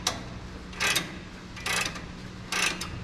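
A ratcheting wrench loosens a bolt on a non-body-style Chevrolet Silverado crew cab while the truck is being lowered, giving three short, close bursts of rapid ratchet clicking with quiet pauses between them and no talking.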